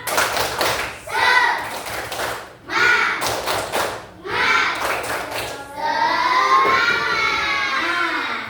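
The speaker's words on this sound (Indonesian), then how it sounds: "Tepuk semangat." Children in a classroom chant and clap in rhythm during a Tepuk Semangat cheer, with bursts of hand claps and thumps alternating with voices and a longer sung or shouted ending.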